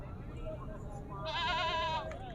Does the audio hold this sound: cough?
no